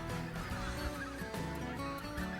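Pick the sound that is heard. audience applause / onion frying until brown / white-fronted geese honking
white-fronted geese honking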